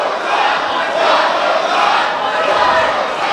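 A packed crowd at an independent pro wrestling match roars and chants in a loud, steady wall of voices that swells slightly in waves and never drops out.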